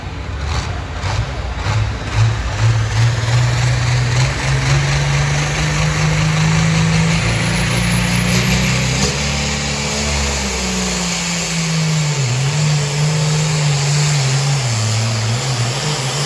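A John Deere pulling tractor called the Moonshine roars loud and steady at a county fair tractor pull, its engine holding a heavy drone that sags in pitch midway through the run and then climbs back up.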